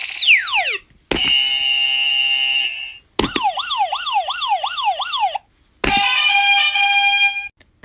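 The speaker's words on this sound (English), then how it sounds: "Which one of these buzzers give off the same energy that you give off?" A series of four electronic buzzer tones plays one after another with short gaps, loud and close: a descending sweep, a steady tone, a warbling siren-like pulse and a high stuttering chord.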